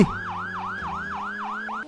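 A police car siren in the Roblox video game wails in a fast, repeating up-and-down cycle, loud and close, with a low engine hum underneath and no talking.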